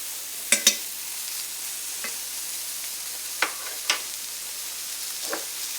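Butter sizzling with mushrooms in a pan, a faint low hiss broken by a few sharp clicks and scrapes of a utensil, close by and without talk.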